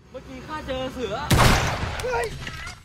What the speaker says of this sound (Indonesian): Paijo mencoba menembak Chow dari kejauhan, tapi naasnya tembakan itu malah mengenai Bunkert